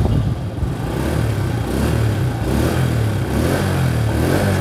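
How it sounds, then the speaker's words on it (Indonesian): Honda Astrea motorcycle with its original exhaust, a smooth, close engine note that rises and falls with revving, loud and continuous with no talk. "Suara knalpot halus sekali."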